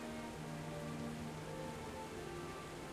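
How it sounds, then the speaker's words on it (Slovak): Steady, dense rainfall in the video game Kingdom Come: Deliverance hissing continuously, with faint sustained tones humming underneath. "A práve začalo pršať."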